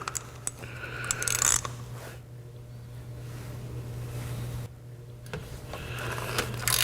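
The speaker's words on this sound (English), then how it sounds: "So now I'm going to use my cap wrench, set my ratchet to tighten." A ratchet drives a cap wrench to tighten the oil filter on a 2009-2011 Mazda 6 four-cylinder, a few quick clicking bursts over a low steady hum, then quieter stretches.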